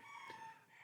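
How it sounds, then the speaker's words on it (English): A rooster crows once, distant and fairly faint, its call rising above a steady background hum. "even as you can hear the rooster in the background"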